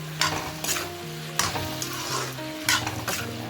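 Ridge gourd with turmeric, salt and tomato fries in a pan while a spatula stirs it, so a loud, continuous sizzle is broken by repeated scraping strokes of the spatula.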